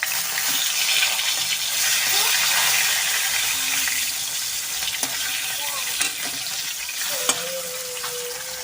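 Salted, turmeric-rubbed rohu fish frying in hot oil in a home kitchen, a steady dense sizzle and spatter running throughout with small clinks and faint background voices.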